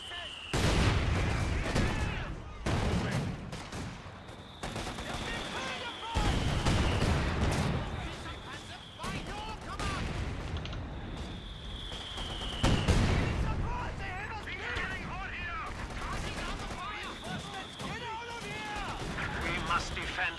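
Mortar fire and explosions in Company of Heroes 2 during a 1v1 multiplayer match, repeated loud thumping blasts at irregular intervals with whistling shells, under in-game voice callouts.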